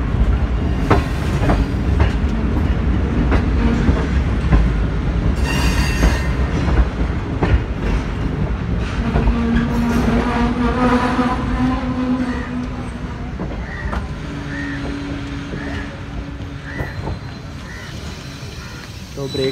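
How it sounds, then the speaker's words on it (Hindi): Millat Express train passing Haria railway station in Pakistan: a steady, loud rumble of rolling carriages with rhythmic wheel clatter and occasional squeal, continuing throughout and easing slightly toward the end, with voices faintly underneath. "135 अप अभी एडवांस होम सिग्नल के पास से गुजर रही है"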